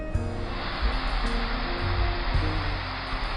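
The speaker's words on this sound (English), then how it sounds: "A final waterfall is a combination of all the previous waterfalls, which is retrospective of Roosevelt's presidency." Steady rushing water from a waterfall at the Roosevelt Memorial, a final cascade combining several earlier falls, heard close and continuous with a low roar and no talk.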